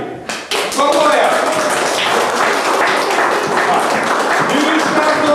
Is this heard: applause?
yes